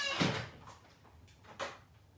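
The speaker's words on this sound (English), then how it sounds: "Matt, can you close the door, please?" A door bumps shut in a pottery workshop room, a dull thud followed by a second softer knock, moderately close with no talk over it.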